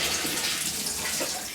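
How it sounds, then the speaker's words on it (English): Water drains from a bowl of thawing frozen shrimp into a sink, a steady close rushing splash with a little gurgle throughout. "I'm just going to drain the water"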